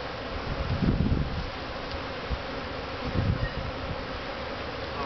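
Honeybees swarm and buzz densely around an opened hive during a bar inspection, a continuous close hum that swells in two louder bursts, with no talking.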